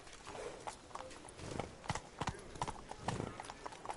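The horse Roach galloping in The Witcher 3, rapid rhythmic hoofbeats close by with scattered voices talking over the run.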